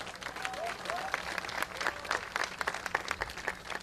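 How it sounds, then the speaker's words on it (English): Outdoor event audience applauding a sponsor, a steady crowd of many hands clapping at moderate distance, with brief voices mixed in. "Y'all clap it up for him."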